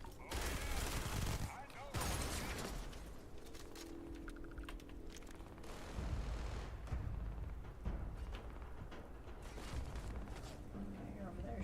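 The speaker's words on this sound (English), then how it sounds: "Okay, you're over there shooting at me." Rapid bursts of gunfire from a firefight in the space RPG Starfield, dense and loud throughout, with a person talking over the shooting.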